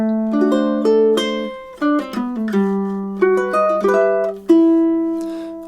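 Ukulele plays the closing two measures of the Nutcracker March, a short melodic line of plucked notes and strummed chords with clear sustained tones, alone and close without talk.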